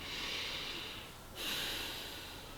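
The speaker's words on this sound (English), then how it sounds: "just breathing nice and deep." Slow, deep breaths drawn in and let out in a calm relaxation exercise, two long airy passes with a brief pause between, close and soft with no talking.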